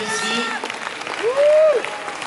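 An audience applauds at a ski club sporting merit award ceremony, with moderate steady clapping mixed with voices and a brief rising whistle or cheer partway through.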